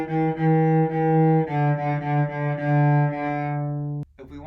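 Cello bowed in a steady repeated Mississippi Steamboat rhythm while stepping through the notes of a tetrachord, rich sustained low tones changing pitch several times before stopping abruptly, played alone and close.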